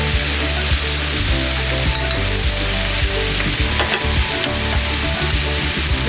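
Mutton curry stirred in a hot pan, with a constant loud sizzle and frying hiss punctuated by occasional scraping strokes of the spoon, close up and without speech.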